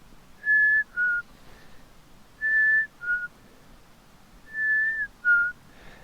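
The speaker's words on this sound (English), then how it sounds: "you may hear the black-capped chickadee giving its spring song." A black-capped chickadee sings its clear whistled spring song in Yellowstone in April, three repeated two-note phrases, each a high held note dropping to a shorter lower one, fairly close and alone in quiet surroundings.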